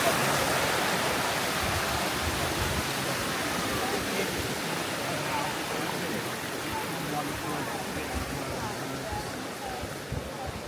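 A waterfall at Plitvice National Park in Croatia pours in a loud, steady, broadband roar close up, unbroken for the whole stretch.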